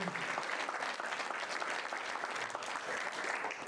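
An audience applauds at a school board candidate forum for Glendora Unified School District trustee seats, a dense, steady wash of clapping from many hands that holds at even volume throughout.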